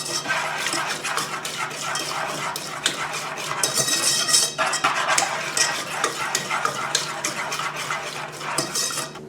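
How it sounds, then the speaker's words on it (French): Lemon tart batter is whisked steadily in a bowl, producing a continuous scraping, clinking stir of utensil against the dish that stays close and moderately loud throughout. "Il faut bien mélanger pour ne pas avoir de grumeaux."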